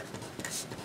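Brief soft scratching of writing during a math lesson on types of discontinuity, faint and close, with no speech.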